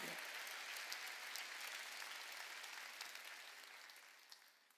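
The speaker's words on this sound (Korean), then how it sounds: "이삭의 삶을 얘기하고 있는 걸 깨닫는 자만 박수치라" A church congregation claps during a Sunday worship service, a faint, distant wash of many hands applauding that stays steady and slowly tapers off.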